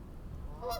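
A single brief goose honk rings out faintly in the distance over a low background hum.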